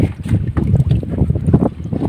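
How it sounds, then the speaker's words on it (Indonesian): An outboard boat motor runs steadily on the water off Boracay during a spearfishing trip, a loud rumbling drone buffeted by wind noise against the microphone, with no talking. "Shout out sa motor ni Uncle Joey."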